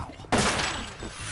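A single sharp gunshot in Metal Gear Solid 2, a loud crack that hits suddenly and rings out into a fading echo.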